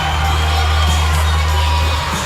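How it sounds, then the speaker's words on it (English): Fans applaud the fighters after an MMA cage bout at FAC 31, Jose Hernandez vs. Ray Hayes: a steady, loud wash of arena crowd noise with cheering over a constant low hum, with no pauses. "Getting their applause, well-due applause from the fans"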